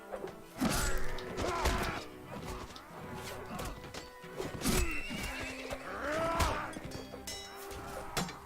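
Horses in the Mount and Blade multiplayer game whinny loudly several times. Between the neighs come snorts and faint hoof clatter.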